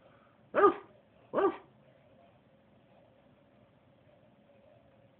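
A Doberman gives two sharp barks about a second apart in a quiet room, then silence follows, with a faint start of another sound at the very end.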